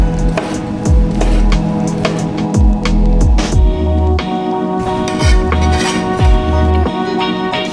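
A knife slices hot dogs diagonally on a cutting board, producing a run of firm, rhythmic chops and thuds roughly every half second, close and fairly loud, with light board knocks between cuts.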